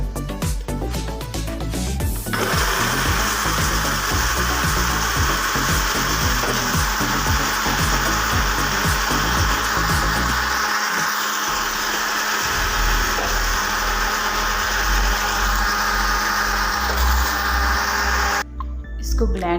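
A blender runs continuously while mixing red velvet cake batter. Its loud, close motor whine and grinding hold steady throughout, shifting slightly in pitch partway through before cutting off near the end.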